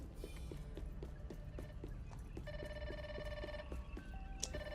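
A telephone rings in the video game Grounded 2, its bell tones coming in repeated bursts over a steady game ambience, with clopping footsteps running underneath.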